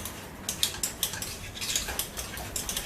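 Spoon stirring triple cheddar into cheesy garlic mashed potatoes in a pot, a string of close scraping clinks and soft thick squelching at an uneven rhythm, with no voices.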